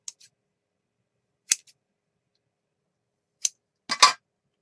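Teal fabric is snipped with scissors in a quiet room: four crisp, separate cuts spaced a second or two apart, the last one longer and louder, with no talking.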